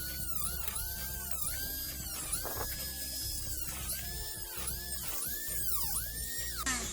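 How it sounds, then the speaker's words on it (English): A handheld Dremel rotary tool whines at high speed while cutting teeth into a wooden dowel plate, its pitch repeatedly dipping and recovering as the bit bites into the wood, loud and continuous throughout. "I'll just take a Dremel tool like this one,"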